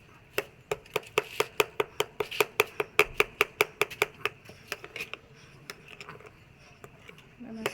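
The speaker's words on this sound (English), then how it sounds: "I'll mix it very well." A utensil beats milky Nigerian pancake batter in a bowl, giving a fast, even run of sharp clicks and taps that slows and thins out toward the end, with faint background noise.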